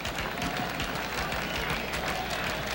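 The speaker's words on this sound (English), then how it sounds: "Those fans start clapping for a strikeout." Baseball crowd at Yankee Stadium applauding and rhythmically clapping for a strikeout, a dense steady wash of many hands with fairly regular beats, loud and continuous.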